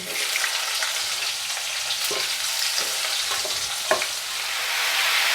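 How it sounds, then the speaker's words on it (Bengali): Potatoes and pumpkin tipped into a pan of hot oil with chilli and tempering spices, frying with a steady loud sizzle and a few sharp clatters from stirring, no voices. "এবার এর মধ্যে আমি আলুগুলো সবজিগুলো দিয়ে দিলাম।"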